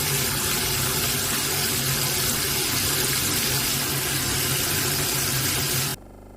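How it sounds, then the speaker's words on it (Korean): Salted seaweed stems are scrubbed under cold running water, a loud, steady tap rush with rubbing and splashing that runs unbroken for about six seconds and then cuts off abruptly. "찬물에 박박박박 씻어 주시면 됩니다."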